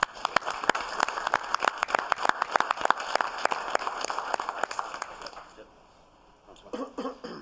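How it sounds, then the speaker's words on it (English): Applause from attendees at a Joliet city council meeting, a quiet, steady patter of clapping that fades out near the end, followed by brief faint sounds from the room. "I'm going to give him a round of applause"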